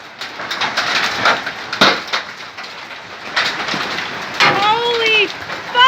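Large hailstones fall and smash onto hard surfaces in a dense, loud clatter of sharp cracking impacts, with excited shouting voices over it.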